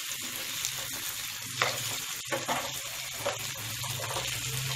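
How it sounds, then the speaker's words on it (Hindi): Green chillies frying in a pan over a gas flame for a masala hari mirch dish, a steady close sizzle running throughout with occasional stirring scrapes, no talking. "इसके साथ हम इसको फ्राई करेंगे।"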